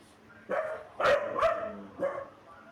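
Two dogs bark indoors, four or so sharp barks spaced over a couple of seconds, moderately near against a quiet background.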